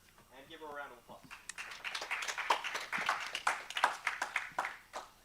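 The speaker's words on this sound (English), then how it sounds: "give her a round of applause." A conference audience at a security event applauds a speaker for several seconds. The clapping builds up after a brief spoken introduction and stays dense and lively to the end.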